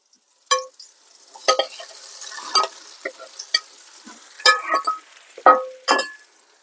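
Eggplant sauté with sweet pepper, garlic and hot pepper stirred in a pan outdoors: sharp, spaced clinks and scrapes of a utensil against the pan over a quiet background.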